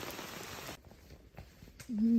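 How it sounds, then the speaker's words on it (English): Heavy torrential rain pours over a trail campsite in Tennessee along the Appalachian Trail, a dense patter that drops away partway through, leaving faint scattered drops and brief rustles. "The rain is not letting up. Pretty torrential."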